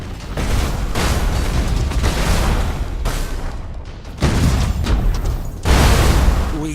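Warship guns firing and explosions in the Battlefleet Gothic Armada 2 video game, a run of heavy booming blasts in close succession, loud and rumbling, with brief gaps between volleys.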